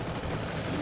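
Gunfire in the WWII shooter Call of Duty: WWII, in a jungle campaign mission: a dense, steady burst of shots and rumble that fills the short moment at an even loudness.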